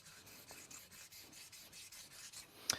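A straight razor's bevel is reset on a sharpening stone, heard as a quiet, rhythmic back-and-forth rubbing of about ten even strokes, ending with a small sharp tap.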